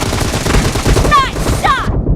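Gunfire in a team-based video game, a dense burst of rapid shots with a couple of sharper ringing cracks near the end, loud and close over continuous game noise.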